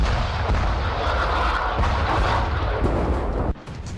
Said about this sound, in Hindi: हिजबुल्लाह के लड़ाके इजरायली सेना के वॉच टावर पर लगातार रॉकेट दाग रहे हैं।